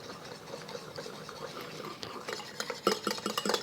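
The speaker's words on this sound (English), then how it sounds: "Or whisk it together." Spicy mayo sauce for dynamite shrimp being whisked in a bowl, a close run of quick scraping and clinking strokes that grows busier toward the end, with no voices.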